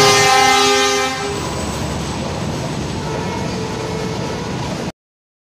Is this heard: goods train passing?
yes